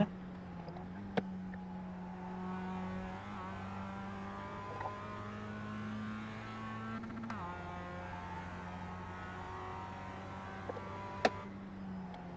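A Global MX-5 Cup race car engine in iRacing at Charlotte Roval holds a steady, droning mid-rev note with small pitch shifts and a couple of sharp clicks, close and continuous, no talk.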